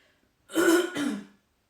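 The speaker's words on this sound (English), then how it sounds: "the coughing is still bad" One close, raspy throat-clearing cough in two quick hacking pulses, followed by silence.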